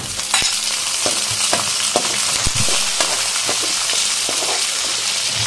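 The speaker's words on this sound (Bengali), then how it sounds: "একটু কষিয়ে নেব" Chillies, bay leaves and onion, ginger and garlic pastes sautéing in hot oil for a pigeon and potato curry, with a steady close sizzle and frequent scraping stirs throughout, no voices.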